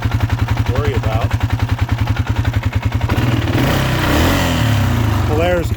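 The small engine of a 2016 Polaris 450 ATV idles with a rough, uneven, clunky chugging that turns into a louder revving roar partway through, close by and mechanical.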